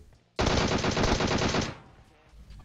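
Automatic gunfire in the mobile battle royale game PUBG Mobile: one loud, rapid burst of shots lasting just over a second, then a fading echo.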